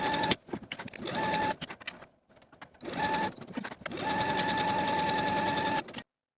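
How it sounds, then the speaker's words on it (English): A sewing machine stitches the side and underarm seams of a collared blouse, running in steady, loud whirring bursts with brief pauses between runs and no talking. "sew these seams with a 3/8 inch seam allowance from the bottom of your bodice"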